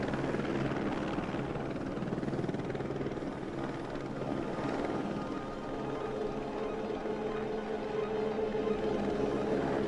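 A helicopter's steady rotor thump and engine drone run continuously and loud throughout, near Chernobyl, with no voices.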